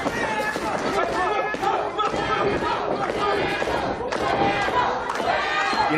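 A packed wrestling crowd in the Stronghold arena roars and cheers continuously, a loud, dense mass of shouting voices with scattered thuds.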